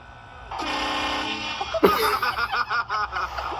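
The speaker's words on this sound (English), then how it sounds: "Kind of air horn, but they're train horn." A train horn used as a prank blasts loud and sustained for over a second, then cuts to bursts of laughter and excited voices nearby.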